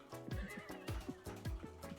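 Video game horse neighing and whinnying in a horse racing game, repeated loud neighs with hoofbeats underneath, close and prominent over game music.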